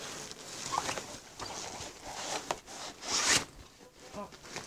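Unzipping a backpack compartment while packing a school bag and pencil case, a series of close, scratchy zipper pulls in uneven bursts with a louder sweep near the end, with faint speech in between.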